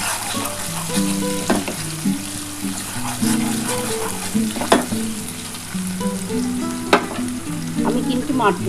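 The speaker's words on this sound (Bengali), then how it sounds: "আমি অল্প একটু নুন দিয়ে দিচ্ছি দিয়ে ভালো করে পেঁয়াজটা একটু ভাজা ভাজা হলে" Chopped onions frying with a little salt in a pan for Bengali mutton kosha give a close, continuous sizzle broken by stirring scrapes, with no talk.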